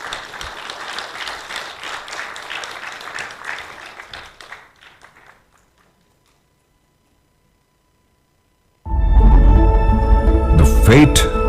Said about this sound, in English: Once again, a huge round of applause for all our winners.